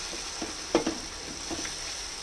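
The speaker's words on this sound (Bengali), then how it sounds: "টমেটোটা ভাজা ভাজা হয়ে গেছে।" Tomatoes fry in a spiced masala in a pan, giving a soft continuous sizzle with a few quick stirring scrapes, close and quiet with no talk.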